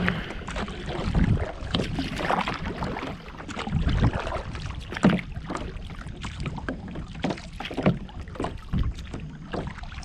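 Kayak paddling on open water, rhythmic splashing strokes and dripping with gusty wind buffeting close to the microphone.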